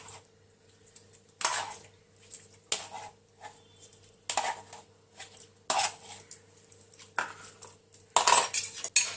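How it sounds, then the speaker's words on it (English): Prawns being stirred into mustard paste in a bowl for shorshe chingri bhapa, giving bursts of clinking spoon-on-bowl scrapes and wet squishing at irregular intervals, close and moderately loud, with quiet pauses between strokes. "Give it a nice stir."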